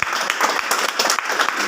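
A seminar audience in Jaipur bursts into steady, loud applause, many hands clapping densely and continuously with no pause.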